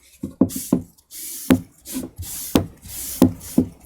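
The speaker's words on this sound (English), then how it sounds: "So the first sharpen on a brand new blade" A brand new carving blade getting its first sharpening, with irregular scraping and rubbing strokes against a stone, each stroke a short rasp separated by brief pauses, close and fairly clear.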